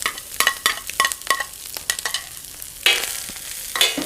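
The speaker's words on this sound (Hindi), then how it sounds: "यहाँ पे मैंने लिए थोड़ी सी बंद गोभी, 1 गाजर लिए मैंने, थोड़ी सी हरी प्याज और आधी लिए मैंने शिमला मिर्च" Cabbage, carrot, green onion and capsicum go into a hot pan, with a run of quick clinks and scrapes followed by two loud bursts of sizzling as the vegetables hit the oil and are tossed.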